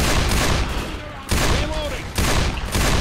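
Gunfire in Left 4 Dead 2, loud dense bursts of shooting in three rough waves with brief lulls between, under faint mixed voices.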